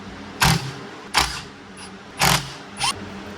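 Tool clicks from a T30 driver working three Torx screws loose on a Chevy SS steering wheel with paddle shifters, four separate close metallic bursts spaced about a second apart, each short and crisp.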